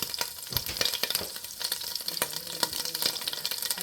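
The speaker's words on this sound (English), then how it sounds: "Put our onions in there. Start getting them cooked down." Onions cook down in a pot for beef stew with a close, steady crackle and sizzle, marked by occasional stirring scrapes and no talking.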